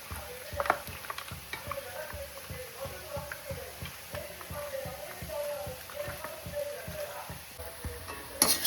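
Onions frying in a pan while cooking mutton biryani, a close, continuous sizzle with rapid rhythmic stirring clatter throughout.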